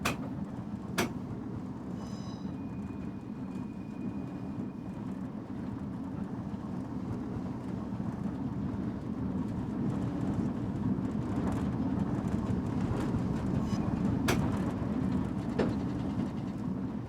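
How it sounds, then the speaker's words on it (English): A battery-powered locomotive from Train Simulator's Return to Maerdy pack running along, a steady low rolling rumble with a few sharp clicks and a brief tone early on. "This is the battery-powered loco from the Return to Maerdy pack"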